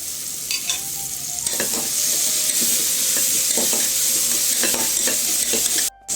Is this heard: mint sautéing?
yes